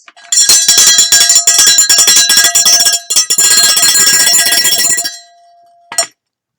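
A bell close by is rung rapidly and loudly with a bright metallic jangle. The ringing runs for about five seconds with a brief break partway through, then ends with one last single strike.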